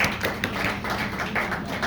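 An audience clapping along, a steady, fairly distant patter of many hands in a loose rhythm, with faint room noise behind it.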